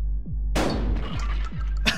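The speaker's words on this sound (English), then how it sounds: "Oh, he shot himself, okay." A shotgun blast in the video game Buckshot Roulette: one sharp, loud close shot cuts through a low droning game ambience, followed by reverberant decay and a few dull thuds.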